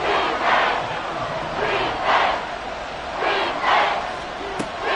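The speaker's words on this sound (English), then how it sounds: "This crowd turning up the decibel level." A stadium crowd at a football playoff game roars in rising and falling surges, a loud, rhythmic wall of chanting noise with a commentator's voice faintly mixed in underneath.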